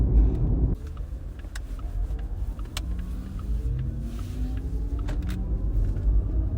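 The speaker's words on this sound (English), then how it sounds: "that is the sport sound that Porsche pumps into the interior of the Taycan via the internal speakers" A synthetic sport drive sound plays through the interior speakers of a Porsche Taycan 4S, a low electric hum that rises in smooth sweeping tones as the car accelerates, with a steady rumble of road noise beneath and no one speaking.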